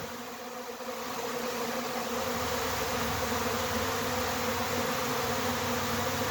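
A honeybee swarm pours into a swarm trap, its dense buzzing hum steady and loud throughout, swelling slightly after the first second and holding without pause or voices.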